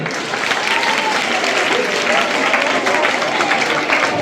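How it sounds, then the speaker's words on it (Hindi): An audience at a Republic Day school event with speeches and patriotic songs claps loudly and continuously, a dense sustained burst of applause from a crowd. "इनके लिए जोरदार तालियां।"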